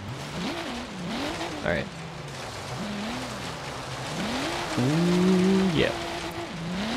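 A Subaru BRZ drifting in the racing game Forza Horizon 3, its engine rising and falling through revs and shifts with tire squeal, steady and close, while someone talks briefly over it.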